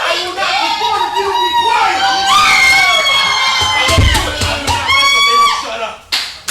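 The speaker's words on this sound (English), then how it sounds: "Threatening to leave if the crowd does not stop making noise." A wrestling crowd in a small studio venue cheers, shouts and screams loudly, with children's voices among the noise and scattered clapping, sustained from start to finish.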